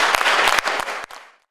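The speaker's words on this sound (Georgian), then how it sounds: "პირველ ჯაზ კონცერტს ვულკანის სიღრმეში ქუთაისელი მაყურებელი ოვაციებით შეხვდა." Audience applause after a Polish band's jazz concert held deep inside a volcano cave near Kutaisi: dense, lively clapping that thins and fades out within about a second and a half.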